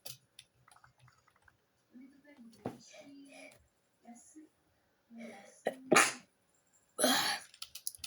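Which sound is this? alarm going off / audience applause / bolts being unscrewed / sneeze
sneeze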